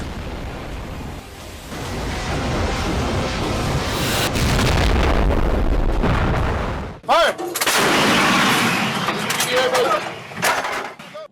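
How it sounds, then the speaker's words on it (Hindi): Artillery fire in Russia–Ukraine war footage: heavy, sustained roaring blasts with rumbling low end, a brief cut, then another loud barrage, dominating the sound with wind buffeting and no clear speech. "जहां पर रूस का आर्टिलरी अटैक देखने को मिला है।"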